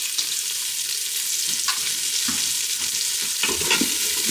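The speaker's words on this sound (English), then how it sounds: "And then just keep stirring it." Onion and garlic frying in a slow cooker pot, a constant bright sizzle with occasional stirring scrapes close by, no voices.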